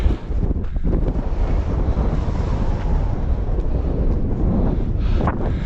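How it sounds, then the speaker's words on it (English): Strong wind on a hillside near High Raise buffets the microphone in a steady, loud roar with gusty rumbling and no voices. "it's getting a bit cold and very windy now"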